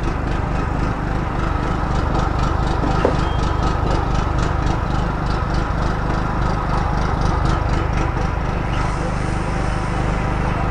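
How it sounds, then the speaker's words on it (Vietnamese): A Husqvarna 550W electric drill boring into wood runs loud and steady throughout, its motor whine continuous with faint rhythmic pulsing, while a gasoline generator hums underneath. "Và bên này tôi sẽ test chiếc khoan của Husqvarna"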